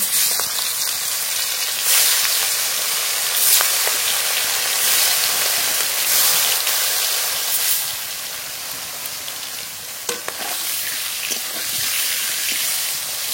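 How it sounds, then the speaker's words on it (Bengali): Rupchand fish rubbed with salt and turmeric fries in hot mustard oil in a wok, giving a loud, steady, close sizzle and hiss that holds for the whole stretch with no voices. "লবণ হলুদ মাখানো রূপচাঁদ মাছ ভেজে নেব।"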